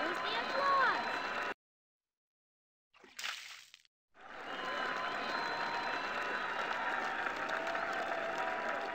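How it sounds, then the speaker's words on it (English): Crowd applause in The Interactive Alphabet game as Arnie the alligator performs acrobatics, cut by a short silence and a brief splashy effect, then returning as a steady, even wash of clapping. "Arnie is annoyed until he hears the applause."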